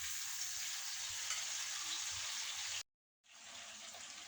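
Chicken pieces fry in hot oil for a tikka biryani, giving a steady, dense sizzle close by, broken by a brief silence before the sizzling returns.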